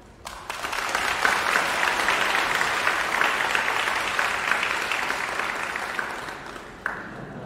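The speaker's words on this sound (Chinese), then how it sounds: "现在让我们以热烈的掌声欢迎孩子们的表演吧" An audience at a 2020 autumn Thanksgiving concert gives dense, sustained, loud applause to welcome a children's performance, swelling quickly and fading slightly toward the end.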